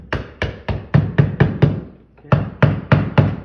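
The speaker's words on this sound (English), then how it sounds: "I just make sure I could use a hammer to make this flat" A hammer taps repeatedly on a new electrical box set flat into fresh drywall: two bursts of sharp, close knocks, six then four, evenly spaced with a short pause between, and a brief spoken word.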